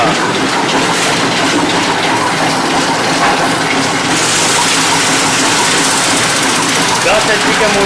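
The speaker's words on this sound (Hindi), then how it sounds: "10 HP के मोटर से डबल लोड 665 वाट में चल रहा है" A solar-powered flour mill driven by a 10 HP motor runs a double load, giving a steady, loud mechanical drone with a grinding hiss that stays constant throughout.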